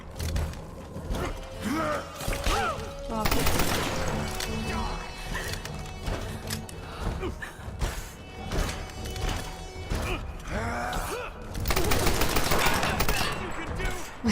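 Gunfire in the Tomb Raider video game, with rapid bursts and shots that crack loudly over a busy game mix, thickening near the end, while horse hooves and voices mingle in.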